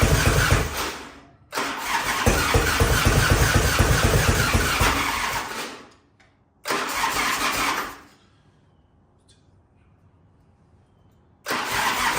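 An old barn-find Harley motorcycle engine cranks and catches, roaring loud for several seconds, cutting out, firing again briefly, then going quiet before another start at the end.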